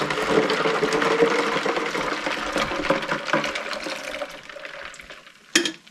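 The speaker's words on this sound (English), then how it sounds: "Pour it right in over the ice." Freshly brewed tea poured from a pot over ice into a gallon pitcher, a continuous splashing, gurgling stream that runs for several seconds, gradually thins, then ends with a sharp clink near the close.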